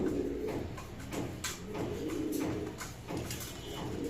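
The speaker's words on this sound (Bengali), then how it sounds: "গিরিবাজের মধ্যে এগুলো একটু ফেন্সি টাইপ কবুতর" Giribaj fancy pigeons coo softly and repeatedly, low throaty calls overlapping one another with faint rustling and fluttering in the background.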